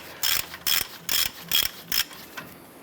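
A ratchet spins a nut loose on the upper ball joint of a 2011-2018 Ram 1500 front upper control arm, giving five crisp clicking bursts in a steady rhythm and a fainter sixth, close and alone.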